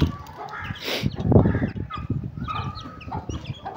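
Several Aseel chickens cluck and squawk close by in quick, irregular bursts, with some rustling movement around them.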